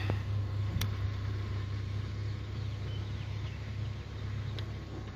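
Toyota 7A-FE engine idling in a 1994 car, a steady low hum and rumble with a faint continuous whir and a couple of small clicks.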